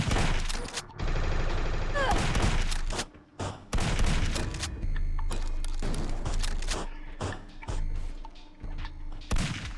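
Enemy gunfire in the first-person shooter Zortch, loud rapid bursts of shots repeating across the stretch with brief gaps, with someone talking underneath at times.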